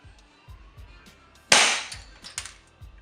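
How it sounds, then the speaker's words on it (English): A KWA ATP airsoft pistol fires a single sharp, close crack that decays quickly, among faint mechanical clicks. "Put a couple of shots through."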